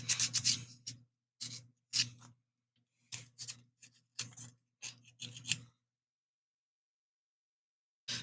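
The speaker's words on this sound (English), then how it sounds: "Let's get these sanded" Small craft pieces being hand-sanded, heard as bursts of scratchy rubbing strokes broken by short pauses, close and fairly quiet, fading to silence near the end.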